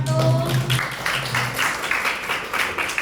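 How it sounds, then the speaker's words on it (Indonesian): Classroom students clapping for group 1 as it comes forward to present, a dense spread of hand claps with a faint hum and brief voice at the start, moderately loud and continuous. "Tepuk tangan dulu guys buat kelompok 1"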